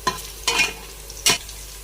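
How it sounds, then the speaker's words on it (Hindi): Onions frying in a pan while being stirred, made for a beef pasanda recipe: three short scraping stir strokes over a steady low sizzle, close and clear, with no voices. "ये देखें, ये हमारी प्याज ना ब्राउन हो रही है"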